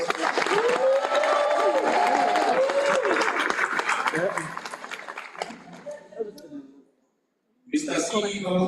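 Graduation ceremony applause from a crowd, dense and sustained with some cheering and a voice over it, fading after about five seconds into a short silence before a burst of sound returns.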